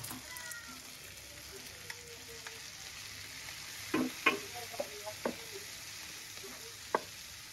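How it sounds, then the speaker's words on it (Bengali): Onion and egg frying in a pan, a quiet steady sizzle with a few sharp utensil clicks and scrapes of stirring scattered through the second half; no one speaks. "আমার পেঁয়াজ আর ডিমটা মোটামুটি ভাজা হয়ে গেছে"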